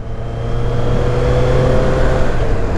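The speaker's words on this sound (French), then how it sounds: "Là, franchement, là, tu as le son de Triumph" A Triumph motorcycle engine hums and revs steadily up close, a continuous deep mechanical drone that builds slightly and holds, with no voices.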